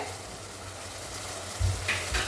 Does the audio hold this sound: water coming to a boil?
yes